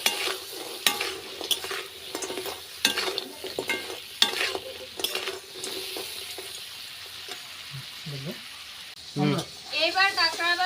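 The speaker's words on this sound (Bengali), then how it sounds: "এবার কাঁকড়া ভাজা হয়ে গেছে গা, এবার নামা নিতেছি।" Crab frying in a pan with turmeric and salt, with a busy sizzle and repeated scraping stirs of a spatula. A voice speaks briefly toward the end.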